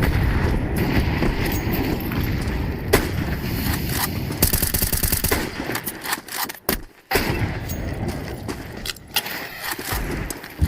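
Rapid gunfire during a Phygital Shooting match at Games of the Future 2025, with bursts and single shots cracking over a dense, noisy game mix and crowd ambience, a sharp report near three seconds and a brief dropout near seven.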